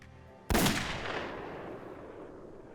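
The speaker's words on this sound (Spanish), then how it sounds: "Apuntó y disparó." A single sharp gunshot from a .357 Magnum revolver cracks out close and loud, followed by a long, fading reverberation, with no other sound around it.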